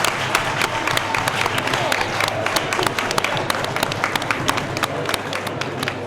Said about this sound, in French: Monsieur l'ambassadeur, vous avez la parole. Vos applaudissements